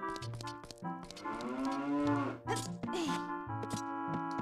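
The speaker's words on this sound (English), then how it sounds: "Hey cows, how you doing?" Cattle at the ranch in Zelda: Ocarina of Time low in a long drawn-out moo, clear and close, set against a looping game melody with no talking.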